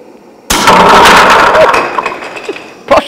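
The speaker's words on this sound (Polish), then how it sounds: "Armata wystrzeliła." A model cannon fired by heated denatured alcohol goes off with a sudden loud blast, trailing into a crackling, clattering decay for about a second, followed by a few small knocks and one last sharp thud.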